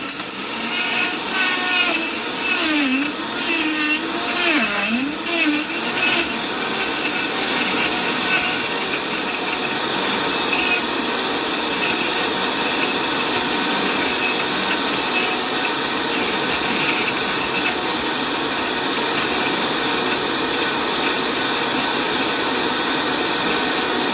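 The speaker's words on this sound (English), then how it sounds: "I'm going to use the dry grind attachment on my Vitamix." Vitamix blender with a dry grind attachment grinding beeswax, a loud continuous high-pitched whirring grind that rises in pitch early on and then holds steady for the whole stretch.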